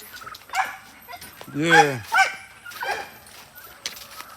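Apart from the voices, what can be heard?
dogs barking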